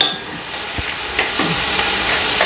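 Mint leaves fry in a pan with a steady broadband sizzle, broken by a few soft stirring scrapes and clicks; no one talks.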